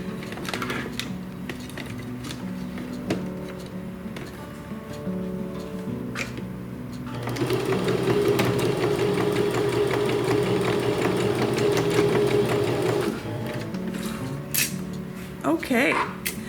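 A sewing machine stitches the opening of a rice hand warmer, a steady mechanical whirring hum running for several seconds, preceded and followed by quieter handling clicks, with a voice talking nearby.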